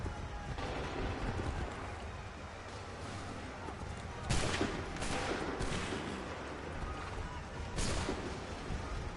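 Musket volleys crack in the Assassin's Creed 3 video game, with several sharp bursts standing out of a rumbling battlefield din and shouted voices in between.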